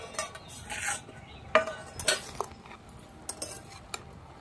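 A spoon scrapes and clinks against a pan while cabbage is stirred after cooking under a lid, with soft irregular knocks and a faint sizzle at low volume.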